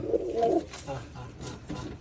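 A domestic pigeon coos once, a short close, low warbling call, followed by quieter rustling and faint bird sounds.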